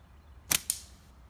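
Slingshot with 30 latex flat bands firing 3/8 ammo through a chronograph: a sharp band snap followed by a second crack moments later, close and brief against a quiet background.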